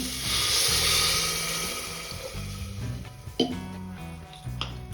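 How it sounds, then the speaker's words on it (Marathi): A glass of water poured onto vegetables in a pressure cooker for pav bhaji: a steady watery rush and hiss at the start, fading into lighter splashes and a few small clinks of metal. "आता इथे मी एक ग्लास पाणी वापरणार आहे भाज्या शिजवण्यासाठी"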